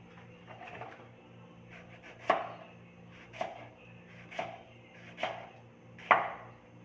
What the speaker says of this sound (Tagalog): Paghiwa.